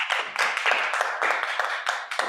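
Applause from a seminar audience closing a session on urban and peri-urban environments, a few seconds of steady, fairly dense hand clapping with no speech over it.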